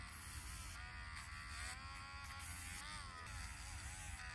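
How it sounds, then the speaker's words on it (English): A Dremel rotary tool hums and buzzes steadily while filing a bearded dragon's nails, its faint whine wavering slightly in pitch as the nail presses against the sanding pad. "If you want to use the Dremel tool, you're just simply applying a little bit of pressure from the nail onto the rough pad of the Dremel"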